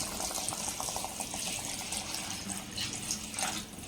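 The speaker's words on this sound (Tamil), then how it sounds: "இப்போ வந்து தண்ணி சேர்த்துக்கலாம்." Water pouring steadily into a pot of rice, a continuous splashing trickle, close and moderately quiet.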